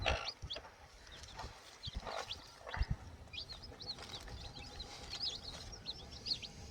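A hen clucks in low, repeated bursts while chicks cheep in quick high peeps around her, fairly close, with soft rustling and pecking in between.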